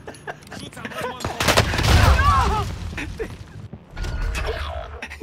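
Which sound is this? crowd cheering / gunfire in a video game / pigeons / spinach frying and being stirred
gunfire in a video game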